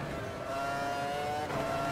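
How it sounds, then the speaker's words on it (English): Open-wheel race car engine drones in the Automobilista sim at the 2002 Austrian GP, with a steady high whine held at close range as a lapped car is being caught, and a brief shift in pitch near the end. No talking. "Another lapped car approaching here."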